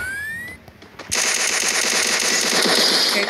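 Rapid automatic gunfire in the battle royale game Free Fire MAX, a dense burst of rattling shots starting after a brief quieter moment and continuing loud and steady to the end, with no talk.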